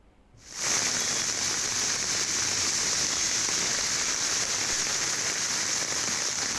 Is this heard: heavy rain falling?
yes